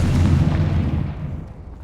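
A Confringo fire spell in the video game Hogwarts Legacy bursts with a loud, deep explosive boom that rumbles and fades over about two seconds.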